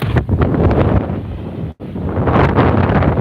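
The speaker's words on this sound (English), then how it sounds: "it's still wicked windy out there" Loud, gusty wind buffeting the microphone with a roaring rumble, dropping out for an instant midway before surging back.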